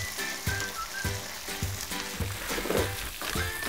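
Vegetable stems stir-fry with garlic in a hot pan at a campsite cooking session, giving a steady close sizzle broken by regular scraping stirs.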